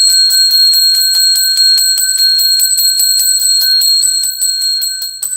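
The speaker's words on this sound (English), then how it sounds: "We ring the bell 10 times when we get to 100 thumbs up." A handbell rung repeatedly in a fast, steady series of bright metallic strikes, loud and close, about ten rings or more with no talking.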